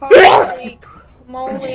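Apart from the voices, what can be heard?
sneeze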